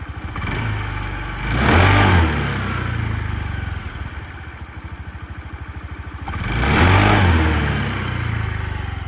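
A Honda Dio 110cc JF31 fuel-injected scooter engine idles steadily up close, revving up twice in clear bursts before settling back to its even putter, with no talking.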